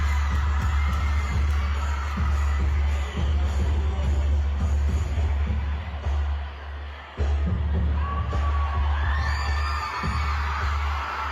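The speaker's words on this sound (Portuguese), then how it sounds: "Olha a gritaria por causa dessa palhaçada." A large crowd shouts and cheers at a lively religious gathering, a dense, continuous roar of voices over a heavy, throbbing low beat that carries on throughout.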